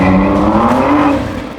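A car from a NASCAR champion's collection pulls away for a drive, its engine loud and close with a rising rev as it accelerates off.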